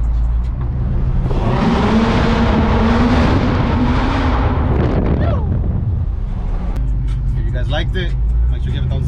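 A truck's loud engine roars and builds as it accelerates in a tunnel, the sound booming and echoing, then easing off with voices heard afterward.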